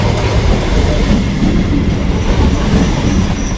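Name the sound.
Budge Budge–Sealdah local train running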